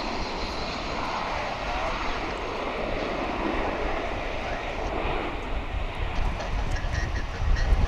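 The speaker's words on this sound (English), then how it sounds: "Let's check out this plane as it lands to see if it's having any problems with the wind." Jet airliner landing at DFW International Airport in windy conditions, a steady broadband engine roar heard from a distance that holds level throughout and swells slightly at the end.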